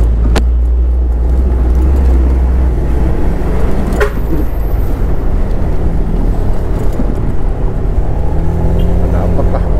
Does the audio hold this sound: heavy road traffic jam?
yes